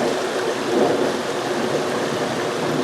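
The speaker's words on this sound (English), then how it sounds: "I can start to hear the water here as we go down this hill." Creek water flowing along the Keshequa Creek trail in Sonyea Forest, a steady broadband rushing that stays close and fairly loud throughout, with no talk.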